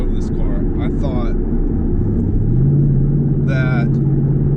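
A 2019 Mustang GT convertible cruises on the highway, its steady low engine drone and road rumble continuous and close, with a rising tone as it gets up to speed, while someone talks over it.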